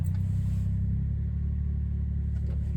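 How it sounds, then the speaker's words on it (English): A 1996 Suzuki Jimny with a K6A turbo engine idling after a cold start, a steady low rumbling drone close to the car, even and unbroken throughout, with no talk. "this is gonna be a cold start. And I'll give it a start real quick here."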